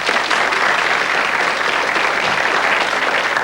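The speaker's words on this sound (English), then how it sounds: "Round of applause." A studio audience on a 1990 television quiz show gives a steady, loud round of applause, dense and sustained throughout with no voices over it.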